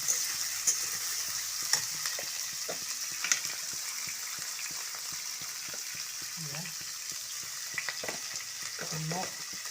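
Food sizzling and frying in a pan, a continuous close hiss with scattered crackles and occasional scraping knocks as it is stirred, with no talking.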